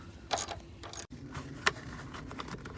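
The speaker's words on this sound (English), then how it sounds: "now you screw those 2 screws back in and the back 2" A few sharp clicks and ratcheting scrapes come up close as screws are driven back into a 2005-2009 Ford Mustang front seat, spaced unevenly with quiet gaps between them.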